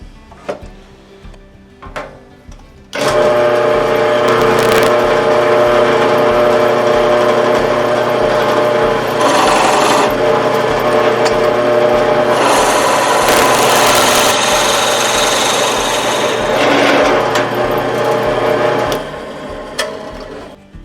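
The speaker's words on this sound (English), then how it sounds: "I'm going to try and drill out this block" A power drill whines steadily and loudly while drilling into a wooden block for most of the clip, starting abruptly after a few light knocks and cutting off near the end.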